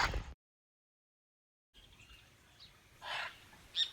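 After a stretch of near silence, a few harsh, raspy squawks of scarlet macaws in trees above a campsite in Costa Rica ring out from a short distance away, with quieter calls scattered among them.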